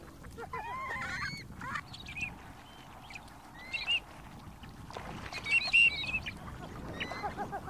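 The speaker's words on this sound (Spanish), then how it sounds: "Numerosas especies de patos habitan las frías aguas del Chungará" Several ducks call from the cold waters of Lake Chungará on the Andean altiplano, giving scattered honking and quacking notes, some near and some farther off, over a steady low outdoor rumble.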